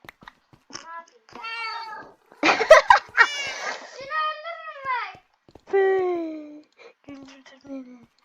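A cartoon cat in a Turkish animation meows in several drawn-out, high voiced cries spread across the clip, close and clear, with an exaggerated, almost childlike tone.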